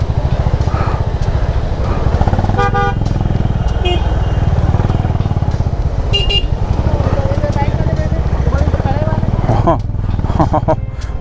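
Dense traffic of cars and motorbikes packed all around a parking area on a crowded weekend road to Bhimashankar, engines rumbling steadily with several short horn toots breaking through, loud and close throughout.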